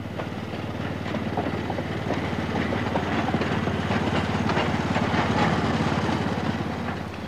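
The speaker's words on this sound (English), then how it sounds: "there's no power quite like steam, as it oozes, splutters, smells, and generally draws the crowds" A steam locomotive runs along the rails with a steady rhythmic clickety-clack and low rumbling chug, moderately loud and continuous, with no talking.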